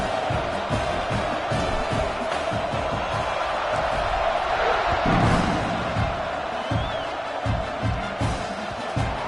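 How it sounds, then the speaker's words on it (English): A football stadium crowd buzzes after a score, a dense, continuous roar of many voices with scattered louder shouts and thumps throughout. "this crowd is buzzing after that last score"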